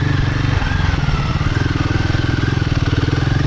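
A Himalayan 450 motorcycle on sandy Michigan singletrack, its engine chugging close by at low speed with a steady, throbbing beat that stays fairly even throughout.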